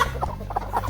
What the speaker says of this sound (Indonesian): kita kasih makan dulu ayam-ayam ini